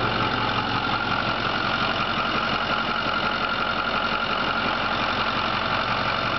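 A Ford Powerstroke 6.4 litre diesel engine idles steadily with a low, rough clatter, heard close and alone at moderate level.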